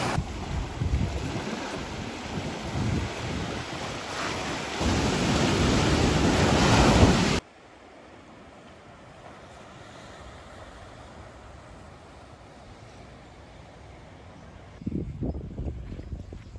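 Surf at Calhetas beach in São Sebastião, Brazil, roars steadily with wind buffeting the microphone, then drops abruptly to a much quieter distant wash before a fresh swell of rushing water returns at the end.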